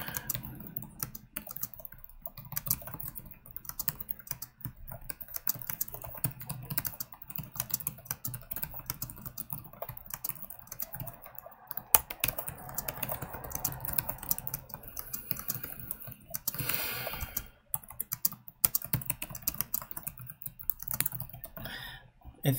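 Rapid, uneven clicking of keys on a computer keyboard continues throughout, close and fairly quiet, with brief pauses and bursts of faster typing.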